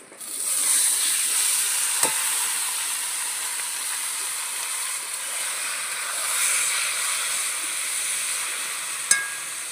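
Boiled taro greens tipped into a pan of fried coconut set off a bright, steady sizzle and hiss with a couple of sharp clinks, close and continuous with no talking.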